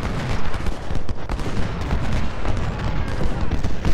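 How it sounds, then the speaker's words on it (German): Cannons thunder across a Civil War battlefield at Gettysburg in Ultimate General: Civil War, a dense, continuous rumble of overlapping booms and volleys that holds at a steady loud level throughout. "Oh, die Kanonen laufen, endlich."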